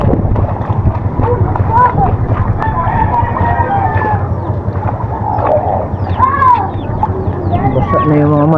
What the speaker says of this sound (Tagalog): Basa na yung mga manok ko dito.